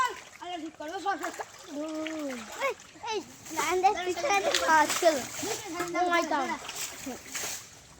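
Water splashing and sloshing as a small pond is bailed out to catch fish, irregular splashes under near-continuous talk from adults and children.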